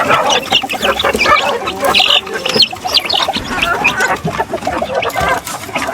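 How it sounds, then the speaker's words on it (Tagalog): Chicks peeping in a cluster with a farmyard feel, a loud, busy stream of high, overlapping cheeps close by, with a few louder calls and fowl-like clucks mixed in. "Yan ako mga sisiw."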